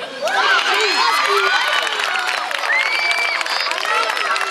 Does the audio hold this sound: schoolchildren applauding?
yes